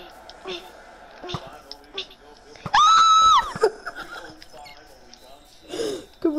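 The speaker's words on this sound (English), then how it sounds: "Just how you scream is so funny" Kid screaming in a sustained, shrill, wavering shriek of about one second amid scattered chatter and background noise, with other voices talking before and after.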